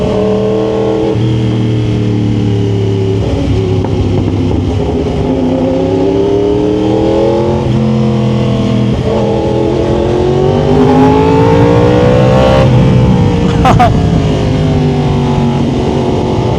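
A Yamaha R1 WGP 60th Anniversary Edition sport bike drones loudly while ridden, its engine pitch climbing and falling through repeated gear shifts under constant wind rush.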